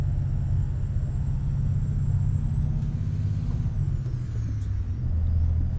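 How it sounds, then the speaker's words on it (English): A Freightliner FLB heavy truck engine in a truck simulator game rumbles steadily at low pitch, loud and continuous, with a faint high whine drifting above it. "Listen to that engine. That engine is just rumbling, isn't it?"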